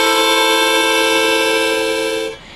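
A harmonica chord blown on holes 3, 4 and 5, held as one loud steady tone for over two seconds and then cut off, alone without talk.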